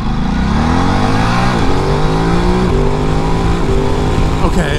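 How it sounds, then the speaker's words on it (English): A 2022 Ducati DesertX motorcycle pulls hard at full throttle in touring mode, its engine note climbing steadily through gears with brief dips at each shift, loud and close over rushing wind. "Now let's do it with full throttle in touring, see if it gets any better."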